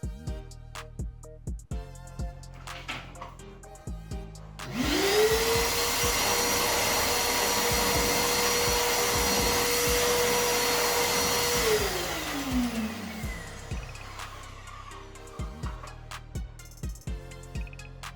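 A BESTO 20-litre commercial vacuum cleaner switches on with a rising whine, runs steadily and loudly for several seconds, then winds down and stops.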